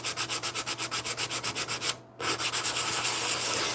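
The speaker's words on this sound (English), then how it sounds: "it's like 100 grit or 120 grit sandpaper, and I'm just going to try and smooth this out" Rhythmic back-and-forth sanding of an overnight-dried craft piece with 100 or 120 grit sandpaper, close and steady strokes, a brief pause, then continuous rubbing.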